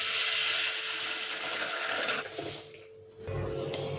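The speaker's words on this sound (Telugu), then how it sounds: "దీంతో 3/4 నీళ్ళు పోసుకుందామండి." Water pours steadily into a container of soaking urad dal for dosa or appam batter, a close, continuous rushing splash that thins and dips briefly near the end before resuming.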